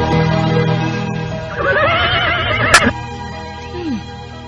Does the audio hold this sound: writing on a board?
no